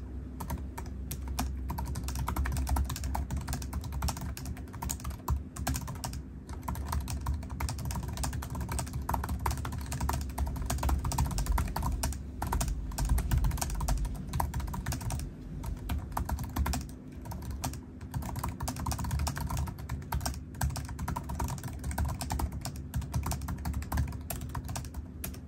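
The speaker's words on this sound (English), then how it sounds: "try typing on it just for the sake of giving you all a little bit of something" Typing on the keyboard of a 2008 HP Mini-Note 2133 netbook, a steady run of soft, fast key clicks and taps that goes on without a break over a low rumble of wind from an open window.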